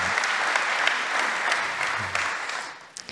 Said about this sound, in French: On peut vous applaudir parce qu'elle est vraiment magnifique.